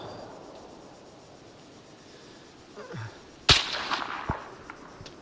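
A single sharp, loud gunshot cracks out in the Arma 3 military shooter, preceded by quiet ambience and a fainter shot, then followed by a couple of softer reports and rumbling tail.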